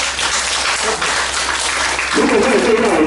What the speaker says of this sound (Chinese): 给你们掌声好不好？